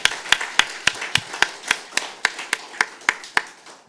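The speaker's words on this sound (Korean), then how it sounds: "박수 한번 칩시다." A church congregation claps in unison, a strong regular beat of about a dozen crisp, evenly spaced claps, loud and close with no talking.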